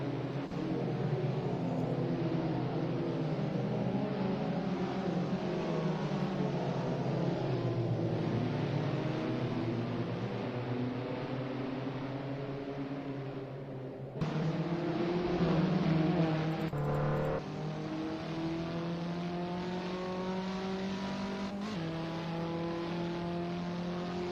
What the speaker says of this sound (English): you can have like cool shots of cars just driving close to each other